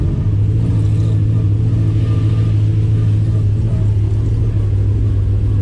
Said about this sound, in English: it's making wrong noises for a Hilux